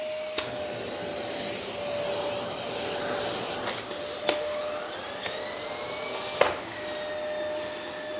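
A vacuum cleaner runs steadily while driving a TurboCat turbo brush head, a continuous droning whine with a steady tone and occasional small clicks and shifts in pitch, close and fairly loud throughout.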